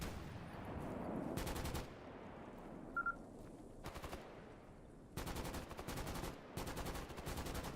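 Video game gunfire in a survival shooter: several sharp bursts of automatic fire, each about half a second long, come at irregular intervals over a low ambient background.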